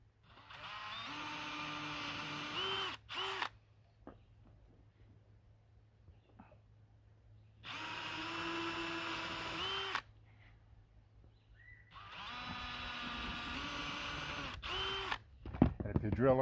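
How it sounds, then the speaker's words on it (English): A power drill pre-drilling holes into wooden caps whines in three bursts of a few seconds each, with quiet pauses between, revving up and slowing at each start and stop. "I'm just pre-drilling holes right in the center of the caps."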